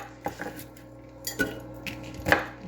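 Food pieces dropped into the bottom of a crock pot with several light knocks and clinks against the pot, spaced irregularly and fairly close, with no talking.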